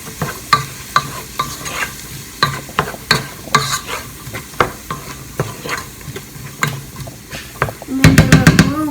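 A spoon stirs spices into a black bean and butternut squash stew in a pot, making repeated scraping knocks over a soft sizzle, with a louder burst of clattering sizzle near the end.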